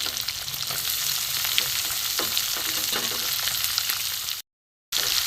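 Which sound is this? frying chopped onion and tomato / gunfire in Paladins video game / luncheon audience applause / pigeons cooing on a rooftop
frying chopped onion and tomato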